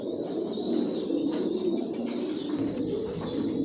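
Racing pigeons coo steadily in a loft, a continuous layered murmur of several birds close by, with a thin higher chirp running over it throughout.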